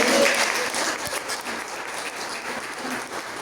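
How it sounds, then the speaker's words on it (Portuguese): Dense applause from a large crowd at a church service fills the space, steady and fairly loud, gradually tapering slightly toward the end. "Você pode aplaudir a Ele?"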